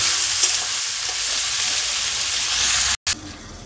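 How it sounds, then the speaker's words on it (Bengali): Potatoes and vegetable stalks frying together in salted oil give a steady, loud broadband sizzle, with a brief cut near the end before the crackle resumes. "আলু আর ডাঁটা সব একসাথে ভাজি। লবণ দেবো, দিয়ে খুব ভালো করে লাল করে ভাজবো।"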